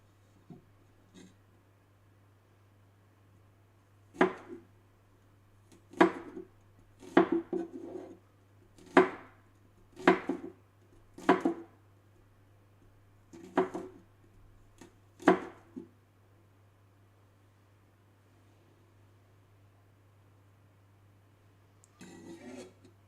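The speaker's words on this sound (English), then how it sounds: "I mince my garlic the same way I mince onions." A knife mincing garlic on a cutting board gives a string of about a dozen distinct chopping taps in uneven bursts, close but fairly quiet against a faint steady hum.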